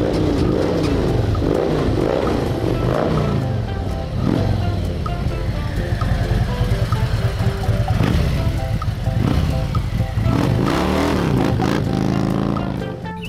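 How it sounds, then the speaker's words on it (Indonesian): A toy Harley Davidson motorcycle gives off a buzzy electronic engine and revving effect, rising and falling in bursts, with clattering toy noises and faint voices in the background. "Di sini ada motor Harley Davidson."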